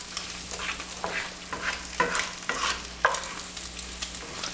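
Scrambled eggs cook in a pan for a bacon-and-eggs breakfast, giving a soft steady sizzle broken by several scraping stirs of a utensil, close and moderately loud, with no talking.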